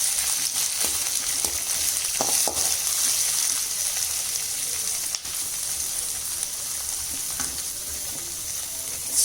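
Onion and capsicum sauté in a pan with honey chilli paneer, giving a steady, close, dense sizzle with faint stirring scrapes throughout, no voices.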